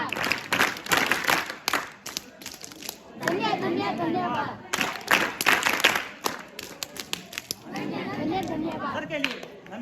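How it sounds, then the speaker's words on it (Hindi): An audience at an Uttarakhand folk culture day celebration claps in two bursts of scattered, crisp applause, broken by stretches of chatter and a speaking voice. "ताली शुरू करेंगे"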